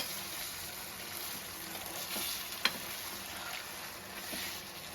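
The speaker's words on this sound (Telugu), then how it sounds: "ఇప్పుడు లో ఫ్లేమ్లో పెట్టుకొని మటన్ని ఒక 40 మినిట్స్ వరకు ఉడికించేసుకుందాం" Mutton for biryani simmering in a pot on a low flame: a continuous soft sizzle and bubbling, with faint stirring or clinking now and then and no talking.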